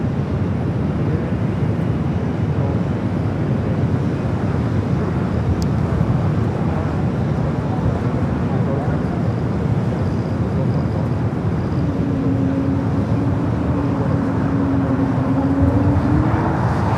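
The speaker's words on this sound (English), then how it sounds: "Cathay Pacific coming in from Hong Kong, 777 at 300 ER" A Cathay Pacific Boeing 777-300ER, arriving from Hong Kong, comes in to land at LAX, its broad steady jet roar filling the air with wind noise and a rising engine whine near the end.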